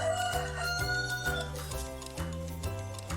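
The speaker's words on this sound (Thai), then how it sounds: "ไก่ส่งเสียงทันใดร้องกุ๊กกุ๊" A chicken clucks in short repeated bursts over bright, steady music from a Thai children's animal-sounds dance song for first-grade learners.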